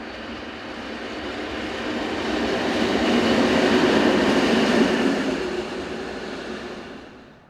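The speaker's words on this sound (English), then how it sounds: "Heading towards the camera is Class 232 diesel number 592, seen on its way to pick up wagons at the Krupp Steelworks in Buchholz." Class 232 diesel locomotive number 592 heading out to collect wagons at the Krupp Steelworks in Buchholz, a low, heavy rumble that swells as it draws near and then slowly fades, with no talk.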